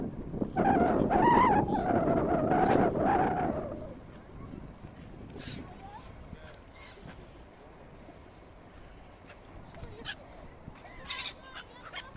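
Loud squawking seagull calls dominate the first few seconds, then fade to sporadic distant cries over a low wash of the fast-flowing Angara River in Irkutsk, Russia.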